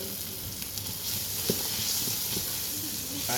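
Chicken pieces fry in a hot, slightly smoking pan, giving a steady broadband sizzle and hiss with a few small pops, close and continuous throughout.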